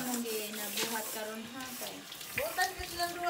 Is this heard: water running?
yes